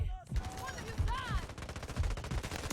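Rapid SMG-45 submachine gun fire in the mobile shooter Delta Force Mobile, bursts of shots repeating over a busy game mix with music-like tones, fairly quiet overall.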